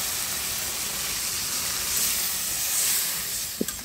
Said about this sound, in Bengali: এখন আমি এই পর্যায়ে গরম জলটা দিয়ে দিচ্ছি।